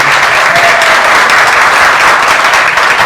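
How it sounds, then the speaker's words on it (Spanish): An audience at a Fe y Alegría university forum in Venezuela gives a loud, dense round of applause for a priest; the clapping stays close and sustained from start to finish with no voices over it. "Un aplauso para el Padre Piedra."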